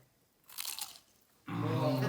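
A single crisp crunch as someone bites into a fried gnocco, close and clear, followed by louder chewing-like crackle after a short pause.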